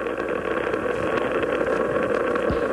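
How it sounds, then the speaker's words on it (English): Space Shuttle Atlantis's main engines roar at liftoff on the STS-34 launch carrying the Galileo spacecraft, a steady, dense, loud rumble without breaks or voices. "We have ignition and liftoff of Atlantis and the Galileo spacecraft bound for Jupiter"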